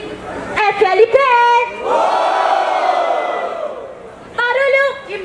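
A live crowd at a Brazilian street rap battle, Batalha da Leste, roars and cheers for a rapper in one long, loud swell of shouting. Excited whoops and hype calls from a host bracket the cheering.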